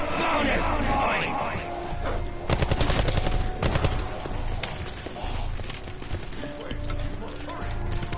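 Rapid bursts of automatic gunfire from a new weapon in the zombie video game Blood of the Dead, loud and close, with clustered volleys mid-clip and players talking around the shots.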